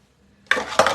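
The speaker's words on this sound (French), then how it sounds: "je vais casser un petit peu avec le fouet. Pour bien mélanger" A whisk beats egg into batter in a bowl during home cooking, giving two quick, close clattering strokes against the bowl after a near-silent start.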